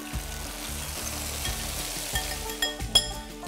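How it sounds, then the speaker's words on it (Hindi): A milk and sugar mixture pours into hot ghee for sweet rice and sizzles with a steady bubbling hiss, while a spoon clinks and scrapes more often toward the end. "अब जो हमने ये दूध और चीनी का मिक्सचर बनाया था वो डाल देते हैं इसमें।"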